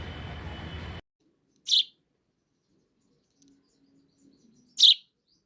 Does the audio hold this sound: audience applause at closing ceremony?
no